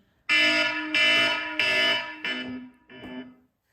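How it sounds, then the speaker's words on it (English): An alarm blares in five loud, buzzing pulses of about half a second each, the last two slightly quieter, then stops. "don't mind the alarms"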